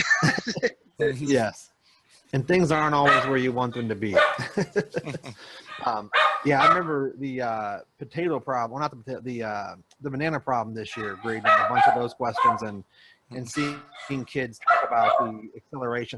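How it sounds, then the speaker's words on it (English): A dog barks in short, sharp yips in the background while two people hold a conversation, the barks mixed in with and partly masked by their talk. "That's my dog."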